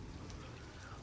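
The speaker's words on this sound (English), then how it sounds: "No, just rain. Just big raindrops." Big raindrops fall during a severe thunderstorm, a brief dense wash of rain noise heard close and fairly quiet, with no talking.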